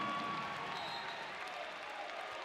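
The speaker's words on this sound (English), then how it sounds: "I think it's a nice round of applause from the crowd here." A basketball crowd in Athens applauds steadily during a substitution timeout, a soft, distant, even wash of clapping with faint voices mixed in.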